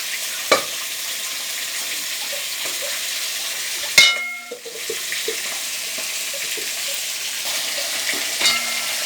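Desi bhakura fish curry sizzling and bubbling in a pan after water is added, a soft continuous simmer with occasional clinks and a brief stir-like clatter midway.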